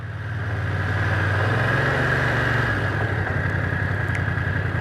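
A 2025 BMW F900R twin-cylinder motorcycle pulls away on clutch and light throttle, its engine drone rising steadily and then settling into a continuous hum under wind rush, heard close from the rider's position.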